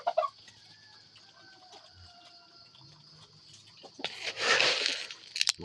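Chickens on a small backyard farm, hens with a rooster, clucking faintly at first, then a louder burst of fowl calls near the end, with no talk.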